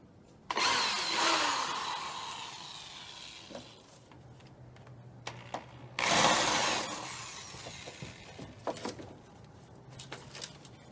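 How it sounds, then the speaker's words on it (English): A power drill whines in two short bursts while unscrewing a board from a chicken house, with scattered clicks and handling knocks between, fairly quiet and nearby. "I'm gonna have to unscrew it though"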